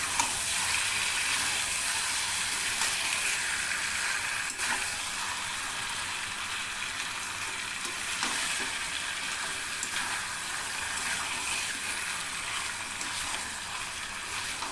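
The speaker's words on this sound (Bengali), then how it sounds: "শুধু একটু ভালো করে আঁচটা কমিয়ে রেখে কষাতে হবে" Chicken kosha, chicken cooking with spices in a pan over low heat, gives a steady, even sizzle with soft frying hiss that runs the whole way through, fairly close and with no voices.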